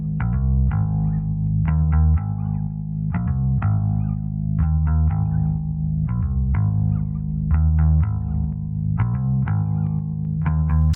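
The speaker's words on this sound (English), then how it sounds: "I just tuned my bass down and started jamming along to what the synths and the drums were doing" Bass guitar tuned down and played through chorus, distortion and echo effects, a loud, steady riff of repeated plucked low notes in a driving rhythmic pattern, heard soloed without voices.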